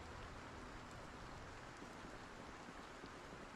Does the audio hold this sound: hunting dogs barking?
no